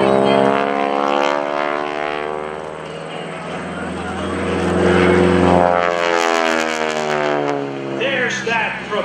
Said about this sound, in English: There's that propeller wrap.